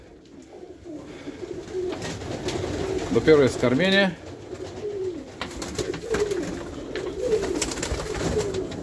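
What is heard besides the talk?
pigeons cooing in a loft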